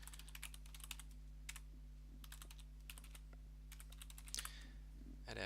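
Typing on a computer keyboard, with quick clusters of light key clicks separated by pauses, close and fairly quiet, under a steady low electrical hum.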